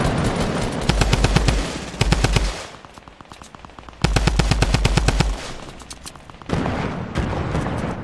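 Rapid automatic gunfire in a competitive shooter video game, loud, close bursts of evenly spaced shots that stop and restart several times, with dense firing and booms in between and no one speaking over it.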